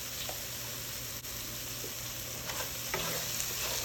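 Onion and tomato paste for palak paneer cooks in a pan with a steady low sizzle and bubbling, and a few soft spoon scrapes come through in the middle. No voices.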